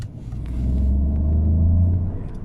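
A Peugeot 208 GT's 1.2 PureTech 130 PS engine rumbles deeply, swelling in a brief rev and then easing back, heard from inside or near the vehicle in traffic.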